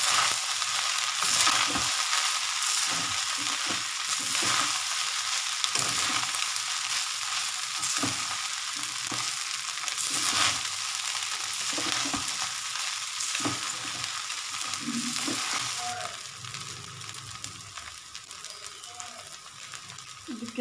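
Masala chitranna being stirred and mixed in a frying pan, with steady oil sizzle and repeated scraping strokes of a spoon through the rice, fairly close, without talk.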